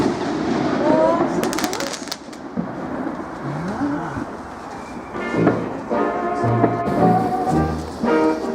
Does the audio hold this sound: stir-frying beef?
no